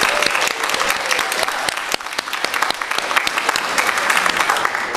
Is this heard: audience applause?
yes